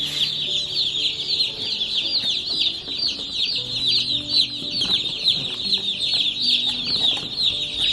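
Baby chicks in a brooder under heat lamps, a steady chorus of high, dense cheeping and peeping that continues without pause, close by, with no talk.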